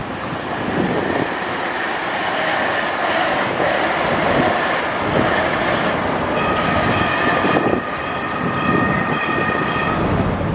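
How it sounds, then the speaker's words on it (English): A fast train rushes past nearby with a steady roar of rolling wheels, rattling carriages and faint squealing, loud and continuous throughout. "Oh, that train's flying."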